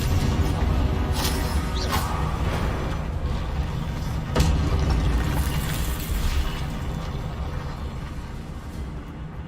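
A Confringo fire spell bursts in the Hogwarts Legacy video game, a dense, roaring blast with crackling hits and a sharp surge midway, loud and continuous before easing off at the end.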